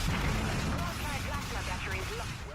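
A warship's weapons in the video game Dreadnought fire at full power, a dense, loud rumbling barrage of booming shots layered with game effects, sustained throughout.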